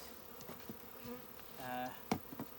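A honeybee swarm buzzes faintly at a homemade nucleus hive, a soft, intermittent drone with one louder bee passing close, amid light knocks and handling noises.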